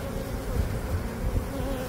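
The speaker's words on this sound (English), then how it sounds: "The bees are working away, doing their thing." Honey bees from an open hive with capped brood and honey frames buzz in a dense, steady drone that stays close and loud throughout, with no talking.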